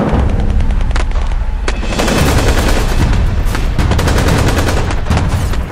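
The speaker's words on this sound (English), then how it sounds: "without warning, they began to fire at the house from a close distance" Sustained close-range gunfire strikes a house, dense cracking shots and bursts overlapping continuously at high volume with no talk.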